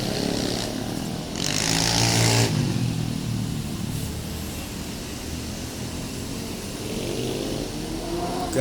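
A Gagak Rimang intercity bus passes a busy bus agency during the holiday homecoming rush, its engine rumbling steadily with a louder surge of rushing noise partway through, set against constant traffic background.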